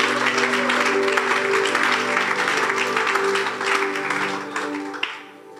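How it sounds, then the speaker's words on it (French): A church congregation applauds and cheers for Jesus, loud and sustained, with a steady organ or keyboard note running underneath, then fading near the end. "acclamons pour Jésus"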